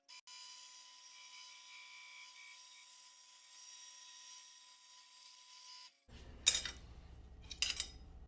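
A bandsaw runs with a steady motor whine for about six seconds, then bites into a pine 2x4 in a few rough, grinding bursts near the end. The cut is close and fairly quiet.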